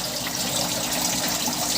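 Water pours steadily into a container while preparing to move berried shrimp into an aquarium, a close, continuous gushing splash that runs the whole time with no talk over it.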